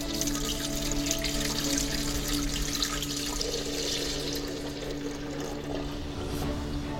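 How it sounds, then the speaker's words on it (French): Running water from a tap streams steadily through a cooking basket holding 200 g of round rice, a constant close splashing rush with no pauses. "Je vais donc rincer dans mon panier de cuisson mes 200 g de riz rond"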